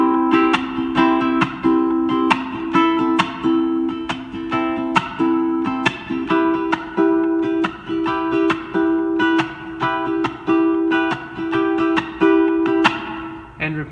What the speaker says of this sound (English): The strum pattern you're going to use is down, up, scratch, up, scratch, up.